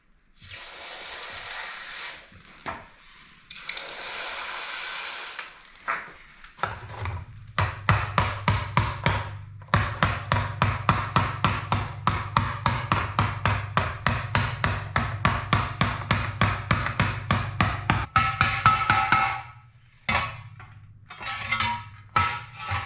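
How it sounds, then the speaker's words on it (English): Hot steel hammered on a swage block while forging a seat for an antique grinding wheel, preceded by a quenching hiss, then a long, loud, steady run of ringing hammer blows at a quick, even rhythm. "I'll take it to my swage block and work that a little bit."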